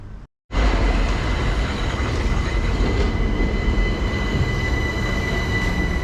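Class 377 electric unit 377 620 pulls into a Caterham branch station from Tattenham Corner with a loud, continuous rail roar and high wheel squeal. A brief cut comes just before the noise, which then holds steady throughout.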